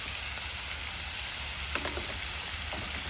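Honey BBQ bacon sizzles on a large outdoor burner, a dense, steady frying crackle with faint pops, even and continuous throughout, with no one talking.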